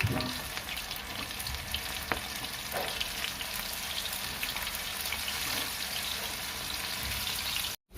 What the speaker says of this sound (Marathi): तेल छान तापलं की यात आपल्याला हे चणे तळून घ्यायचे आहेत या प्रकारे